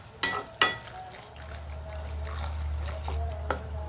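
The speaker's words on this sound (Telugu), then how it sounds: "కొంచెం నీళ్ళు పోసుకుందామండి ఇప్పుడు, కొంచెం ఎక్కువ కాదు." Water poured into a pan of amaranth curry cooking for a tomato gravy: a couple of sharp clinks, then a steady low pour with sizzling that runs to the end, close and moderately loud, with no talking.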